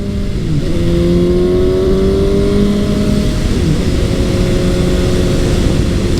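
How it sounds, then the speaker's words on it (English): Suzuki GSX-S750 four-cylinder motorcycle with a Yoshimura exhaust accelerating hard in third gear, a loud, close engine whose pitch climbs smoothly through long sweeps with brief gear-change dips under constant wind rush. "this engine just pulls really strongly and smoothly"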